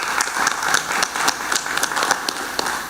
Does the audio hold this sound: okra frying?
no